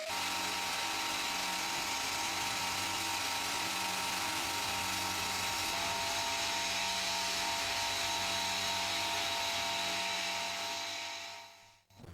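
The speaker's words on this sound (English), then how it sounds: "he'll use sandblasting to strip paint from the cast iron and remove rust. The abrasive used is white corundum." Sandblasting with white corundum abrasive strips paint and rust from an old cast iron fuel iron, a steady loud hiss that continues unbroken for several seconds before cutting off at the end.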